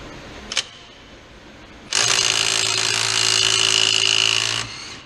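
A four-year-old, well-worn Milwaukee Fuel power tool works on an engine crank bolt: a brief click, then a loud, steady, high-pitched whine that runs for nearly three seconds before cutting off, with no talking.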